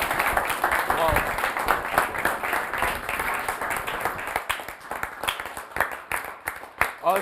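An audience applauds a guest speaker at a talk show event, with dense clapping that grows more distinct and sharper toward the end, while a voice speaks over it at first.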